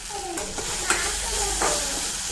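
Curry leaves and salt frying in a pan give a steady, soft sizzle, with a few light stirring scrapes and clinks spread across the stretch and faint speech-like tones over the top.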